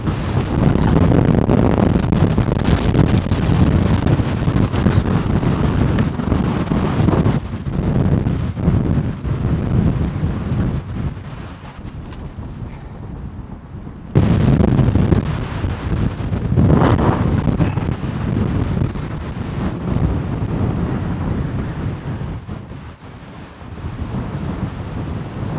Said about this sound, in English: the wind comes and goes